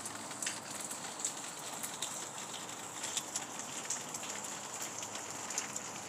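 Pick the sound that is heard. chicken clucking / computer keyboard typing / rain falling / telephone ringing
rain falling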